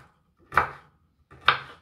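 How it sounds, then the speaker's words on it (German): Sugar being cut into small pieces by hand with a knife in a home kitchen, two sharp chopping strikes about a second apart, close and clear with nothing else heard. "ich muss den Zucker einschneiden"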